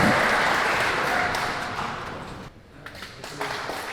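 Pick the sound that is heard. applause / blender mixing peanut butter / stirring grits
applause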